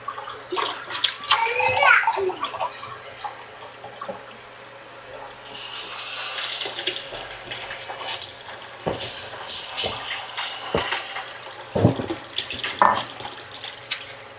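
Water runs from a water purifier tap in a steady stream while the filters are flushed, with clinks and small knocks around it and people talking now and then.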